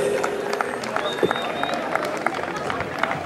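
Rodeo crowd applause in an arena ring, scattered claps and cheers rising from the stands amid general crowd hubbub, with voices talking over the noise.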